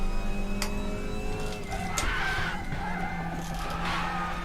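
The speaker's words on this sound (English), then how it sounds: "I just heard my tires squeal" Race car tires squeal and skid on a circuit in a touring car racing video game, with steady engine drone beneath and brief bright screeches around the second and fourth seconds.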